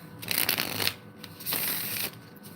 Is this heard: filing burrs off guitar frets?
no